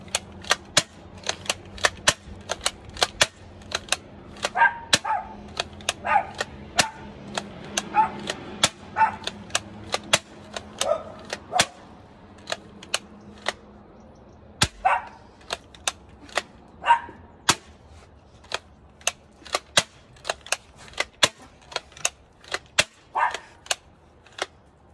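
A Bug-A-Salt 3.0 salt gun fires repeatedly in sharp, snappy cracks, dozens of close shots in an uneven rapid rhythm with faint background murmur between them.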